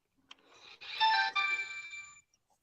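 An old phone sounds a short electronic ringtone, a single bright melodic burst lasting about a second, clear and close against near silence.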